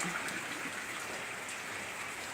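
Steady rain falls over a garden with lawn grass, a continuous broadband hiss of drops that stays even and moderately loud throughout, with no voices.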